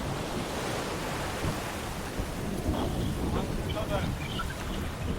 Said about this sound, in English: Another squall above us.